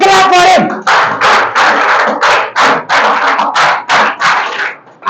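An audience claps for an award winner at a prize ceremony. The applause comes in loud, close bursts that rise and fall repeatedly, opening with a brief voice.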